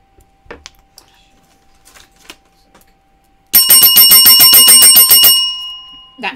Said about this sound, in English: That's my little bell that I get to ring.